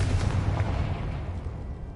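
A Confringo fire-blast spell from the video game Hogwarts Legacy, a loud, booming explosion that swells at once and rumbles on for about two seconds, dense and heavy, with no talk over it.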